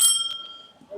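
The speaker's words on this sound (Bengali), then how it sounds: "বেল," A bicycle bell on an old gear bicycle rings once, a bright close metallic ding that fades quickly, followed by a brief bit of speech.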